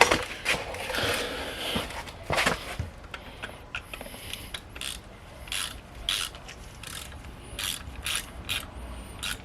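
A ratchet clicks while a bolt-on connector comes off the oil pressure sensor of a 45-year-old Porsche 924 engine, with quick bursts of close, sharp pawl clicks between metallic rubs and pauses, and no talking.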